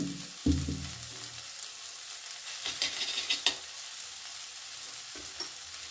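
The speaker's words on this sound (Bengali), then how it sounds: "ঘি দিয়েও কিন্তু খুব ভালো করে আমি মিশিয়ে নেব থোড়ের সাথে" Banana stem stir-fry with ghee is stirred in a pan, a thump at the start, then a faint sizzle with a short run of scraping strokes near the middle and a soft knock near the end.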